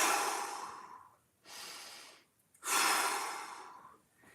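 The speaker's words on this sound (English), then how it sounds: "2 big breaths" Two deep, broad breaths during a mobility stretch, each a long airy inhale-exhale, close and fairly loud, separated by brief quiet gaps with no talking.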